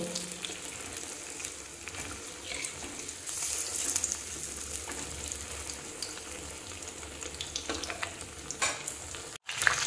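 Bread cheese pakora fries in hot oil with a steady sizzle and crackle, while scattered clinks and stirring sounds break through. A brief dropout comes just before the end.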